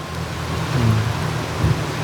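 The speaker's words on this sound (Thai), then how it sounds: "ป๊าดเถอะพี่น้องฝนตก" Heavy rain pours steadily while low rumbles of thunder roll in the distance.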